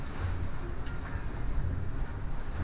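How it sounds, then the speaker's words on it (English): Gusty westerly wind aboard a Seawind 1000 sailing catamaran, a steady low roar buffeting the microphone with faint water wash underneath, continuous and fairly quiet, no talking. "Don't you just love westerly winds?"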